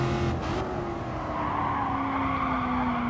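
A race car in Gran Turismo Sport brakes hard, its tires squealing in a long, loud skid over a steady engine drone, with no talk.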